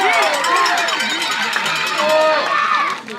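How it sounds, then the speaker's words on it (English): A home crowd at a high school baseball game between the Cedartown Bulldogs and the Heritage Generals roars after a home run, loud and sustained with whistles and shouts, easing off near the end. "Listen to this crowd."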